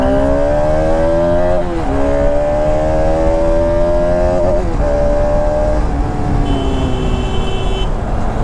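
A KTM RC 200 or Bajaj Pulsar RS 200 sport motorcycle accelerating hard, its engine note climbing through several gear changes, loud and close throughout with no talk.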